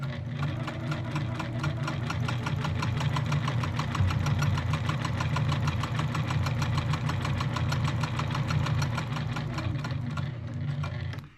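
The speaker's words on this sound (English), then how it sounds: "let's go to the sewing machine" A sewing machine runs steadily and loudly for about eleven seconds, stitching quilt fabric for a jelly roll quilt with a regular presser foot fitted, in a fast, even mechanical rhythm with no talk.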